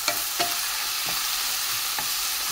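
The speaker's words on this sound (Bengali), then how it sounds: "চিলটা দিয়ে ভালো করে নেড়ে দেবো।" Tomato and chilli frying for an omelette curry masala sizzle steadily in a pan while a spatula scrapes and stirs a few times, close by and alone.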